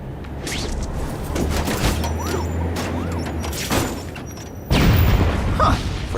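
Rapid crackling bursts and deep booms of video game fireworks in The Amazing Spider-Man 2, loud and close, popping in clusters over a steady rumbling background.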